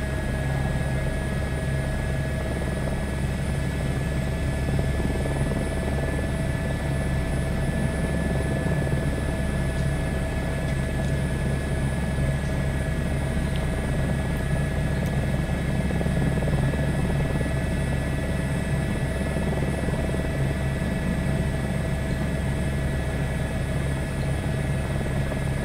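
An aircraft, compared with Alouette and Wasp helicopters and flying at 8,500 feet near Lake Singkarak by Padang, drones with a steady, constant engine roar and a whine, close and unchanging throughout.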